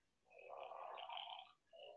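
A veterinary patient animal snores loudly in two long, rasping breaths, the second cut off, recorded close with no talking.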